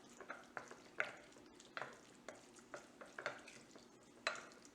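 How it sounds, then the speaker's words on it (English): A utensil stirs catfish pieces in an olive oil marinade in a bowl, giving soft, wet, irregular clinks and scrapes at close range, fairly quiet. "Mix well."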